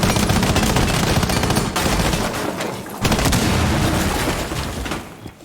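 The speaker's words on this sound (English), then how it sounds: "A few pot shots." Loud, dense gunshots in a competitive team match of a shooter video game, sustained bursts of rapid fire and booms filling the whole stretch before fading at the end, no talking.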